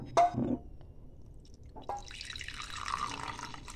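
Lukewarm milk is poured into a bowl holding curd starter for homemade yogurt, opening with a brief splash, then a quiet, steady stream of liquid running on for about two seconds.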